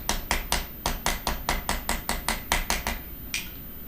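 A hammer striking copper leaf for jewelry making, about fifteen sharp metallic blows in a quick, even rhythm, close and loud with no talking.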